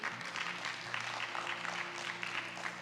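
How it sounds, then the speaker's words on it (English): Audience applause from a seated crowd at a conference session, a steady dense patter of many hands clapping at moderate distance, fairly quiet and sustained with no talk over it. "Hold on to the clap."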